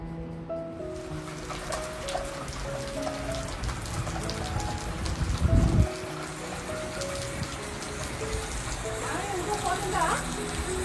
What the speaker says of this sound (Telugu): పొలంలో ఉన్నప్పుడు వర్షం పడుతుంటే భలే ఉంటది అసలు